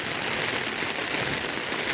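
Heavy monsoon downpour in Jaipur on the first day of Sawan, a dense, loud, steady roar of rain hammering surfaces, continuous and uniform with no breaks.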